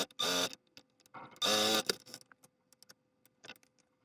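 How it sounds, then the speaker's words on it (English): Sewing machine stitching a fabric face mask runs in two short, loud whirring bursts close by, followed by quieter clicks and taps. "And I'm just gonna sew that together."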